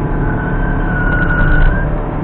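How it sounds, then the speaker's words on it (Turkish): A Peugeot 206 X-Design 1.4 petrol automatic corners at about 70 km/h through a tight bend on asphalt, its tyres giving a sustained squealing whine over a steady road and engine rumble. "Lastik sesi geldi biraz ama bu asfalttan."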